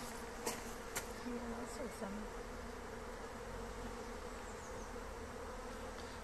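Honeybees buzz steadily around an opened school beehive with the brood frame lifted into the sunshine, a dense continuous hum close by, while a voice speaks briefly over it.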